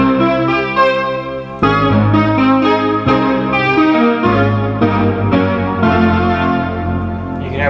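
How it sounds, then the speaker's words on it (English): Polymoog synthesizer chords held and sustained without a pedal, thick chorused and slightly distorted tone with new chords struck every second or two, loud and close, no talking. "if you don't have the pedal, this is how you get a sustain."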